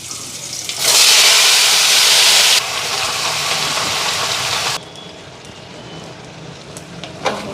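Vegetables tipped into a hot pan burst into a loud, broadband sizzle and hiss for about two seconds, then settle into a steadier, quieter frying hiss that continues under light kitchen noise.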